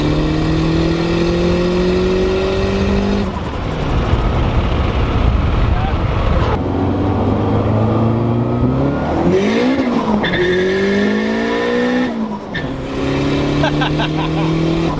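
Boosted K20-powered Honda Civic pulling hard in third gear on a dyno from a 90 rolling start, engine note climbing steadily in pitch with several shift-like dips and turbo whooshes, loud and continuous throughout.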